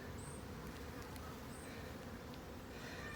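Steady, dense buzzing of many honey bees close by on a hive frame, a continuous drone with a few faint higher chirps over it.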